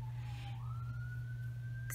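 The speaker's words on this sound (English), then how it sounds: "Excuse the sirens. Something's happening." Emergency vehicle siren outside, faint and distant, a single wailing tone slowly rising in pitch over a steady low indoor hum.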